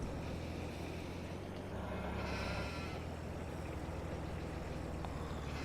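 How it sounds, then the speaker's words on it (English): Sheep bleating in the farming game Farming Simulator 22, with a steady low engine drone running underneath and a broad wash of noise; the bleats are not clearly separated from the background hum. "The sheep there are going alright."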